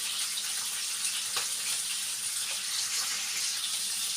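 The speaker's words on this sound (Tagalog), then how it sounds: "matagal-tagal natin siyang prituhin para mas masarap po yung medyo malutong-lutong kapag kinakain" Food frying in hot cooking oil, a steady broadband sizzle with faint crackles and pops, fairly soft and continuous throughout with no talk.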